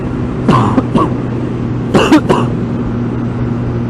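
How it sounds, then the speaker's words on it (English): A few short, sharp coughs in two quick pairs, close to the microphone, from a motorcycle rider, over a steady engine-like hum and wind noise. "Sorry about the coughing and sniffing"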